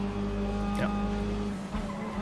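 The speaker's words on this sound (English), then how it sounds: "stepping on the grass while braking, and the back of the car came and I spun out" Tires of a Mazda MX5 skid as the car spins out after braking onto the grass in the racing game RaceRoom at Suzuka, a short squeal rising over the steady engine hum.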